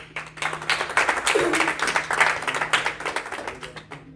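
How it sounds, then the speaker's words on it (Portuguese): A church congregation claps in praise during a service, a steady run of mid-level hand claps over a faint low hum from the room. "Salva de palmas para o Senhor"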